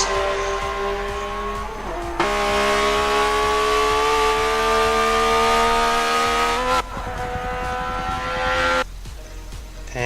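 A Lamborghini Aventador SV slides sideways, its engine holding a loud, steady, high-pitched note that is cut off abruptly twice, with a brief change near the start, on a racing lap.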